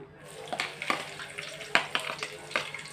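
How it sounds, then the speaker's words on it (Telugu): Garlic hitting hot oil in a pan produces soft, crackling sizzle with scattered sharp pops and clinks of stirring, fairly close and moderate in level. "ఇప్పుడైతే ఇందులో వెల్లుల్లి వేస్తున్నాను"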